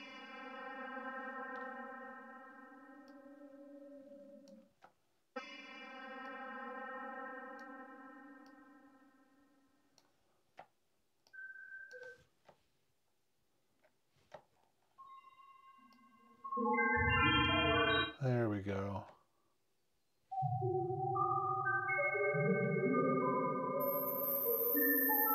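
Alchemy spectral synthesis synth notes in Logic Pro, a sustained harmonic-rich held tone that cuts off and resumes, followed by sparse clicks, then bursts of shifting, glassy, swept tones with echo and distortion-like texture.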